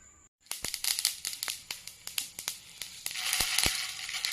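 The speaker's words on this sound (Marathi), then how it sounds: "हे बघा मस्त तडका टाकला चटणीमध्ये" Tempering of urad dal, chillies and onion crackles and sizzles in hot oil for coconut chutney, with a rapid run of sharp close pops and spatters building into a dense, continuous hiss.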